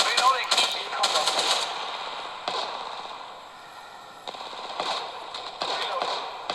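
Rapid gunfire in Apex Legends Mobile played on a Samsung Galaxy A52, bursts of sharp automatic shots crackling in clusters with brief pauses, fairly close, fading slightly mid-stretch before resuming.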